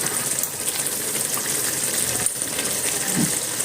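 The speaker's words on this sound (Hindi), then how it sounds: "चलिए जी मैं पानी को ऐड करती हूँ।" Hot water poured into a pan of frying mutton paya (goat trotters) curry, a steady close gushing, sizzling wash that runs continuously for several seconds at even loudness.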